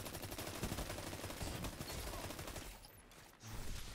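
Rapid auto rifle fire in the video game Destiny 2, a 720 rounds-per-minute weapon, heard as a dense, continuous stream of shots with a brief dip near the end before the firing picks up again.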